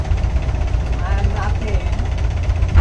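A family boat's engine on a Bangkok river gives a steady, low, close rumbling drone with faint voices underneath.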